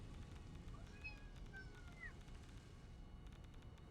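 A pet kitten gives a few faint, high meows over steady low background noise, the calls wavering upward and trailing off midway through.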